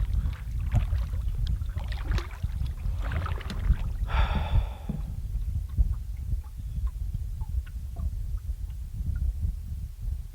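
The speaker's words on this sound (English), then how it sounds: "I'm just paddling." A canoe paddled across calm water on a solo bushcraft camping trip: soft, irregular dips and swishes of the paddle with water trickling and knocking against the hull, close and quiet, with one brighter splash midway.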